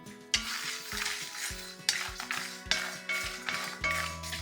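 Sesame seeds and cashews stirred in a hot kadai make a close, steady dry crackle, with repeated scraping strokes of a spoon against the pan.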